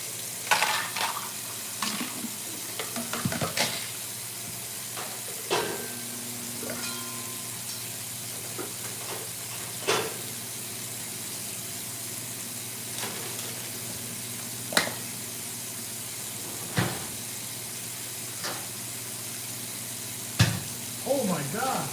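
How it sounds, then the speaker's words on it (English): Scattered sharp pops and crackles over a steady low hum, with a few faint voice-like sounds in the background. "Hear that exploding in the microwave?"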